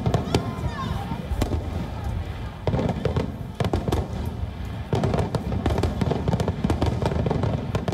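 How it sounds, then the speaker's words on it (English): Fireworks burst over the Republican National Convention in a rapid, dense barrage of loud cracks and booms, with a crowd roaring continuously underneath and voices mixed in. "their voice got lost in the sound of fireworks"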